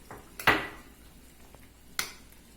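A spoon clinks twice against a pot while stirring banana and cassava flour pirão scalded with boiling liquid; the two sharp, moderately close knocks are spaced about a second and a half apart against a quiet kitchen background.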